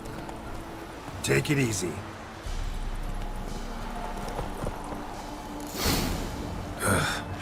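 Roach, a horse in The Witcher 3, clip-clops along at a walk with a steady hoof rhythm, punctuated by a couple of louder breathy snorts; a voice speaks briefly over the hooves.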